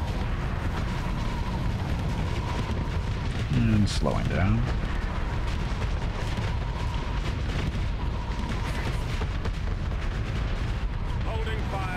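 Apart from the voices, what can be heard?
ship cannons firing in Starsector video game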